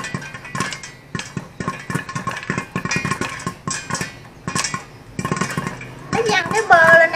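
Irregular sharp pops and clattering bursts of butter popcorn against a pot lid, with a voice talking over the busy, crackling popping.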